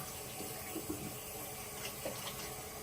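Tap water runs steadily into a sink while hands are washed in a home kitchen during dinner preparation, a continuous close splashing stream with slight shifts as the hands move, no talk.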